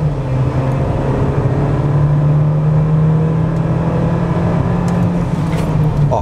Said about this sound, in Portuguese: Primeiro no modo Comfort, vamos pisar aqui no freio, no acelerador e... A saída é um pouco lenta